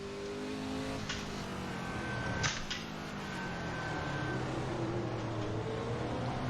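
A 1966 Ford GT race car in Assetto Corsa, its engine droning steadily with rising and falling pitch as it runs at speed, with a few brief sharp transients, loud and close with no talk.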